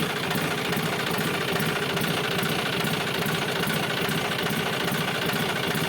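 A John Deere power-steering tractor engine idles steadily up close, a continuous loud chugging rumble with a fast, even knock and vibration and no talk over it.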